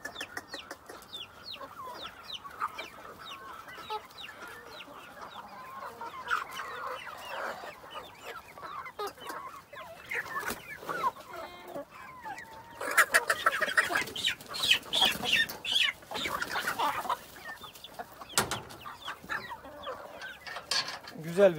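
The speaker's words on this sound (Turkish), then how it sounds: "Şu tavukların başıma toplanışını çeker misin?" Many hens and a rooster cluck and squawk close by as the flock crowds around a person expecting feed, a busy, continuous chorus of overlapping calls that grows louder and denser partway through.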